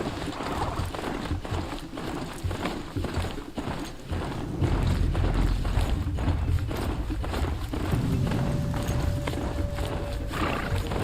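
A machine horse mount gallops in the game Horizon Zero Dawn, with rapid rhythmic hoof thuds pounding steadily and close, under a rumbling game soundscape with a brief tonal cue, no talk.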